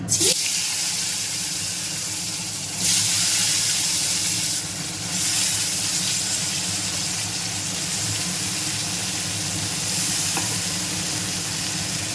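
Chopped potatoes added to a hot pan of frying coconut for ghugni, a steady close hiss of sizzling oil with a few bursts of louder spattering as the pan is stirred.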